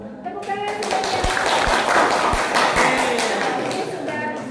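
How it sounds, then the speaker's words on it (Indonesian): A classroom audience gives short, close applause after a group presentation, a burst of hand claps mixed with a few heavy taps and thumps, with voices underneath. "Tepuk tangan semuanya."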